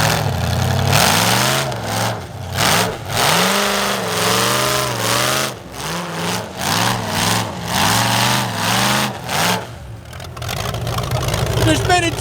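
A loud modified Dodge Challenger engine revs hard again and again, rising and falling in sharp surges that sound like a race car, with people talking excitedly over it.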